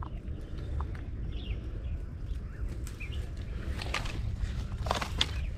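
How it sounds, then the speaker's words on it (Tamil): Scattered faint bird calls sound in a forest near Chennai over rustling footsteps and a low outdoor hum. "நிறைய பறவைகள் இங்கே இருக்குது."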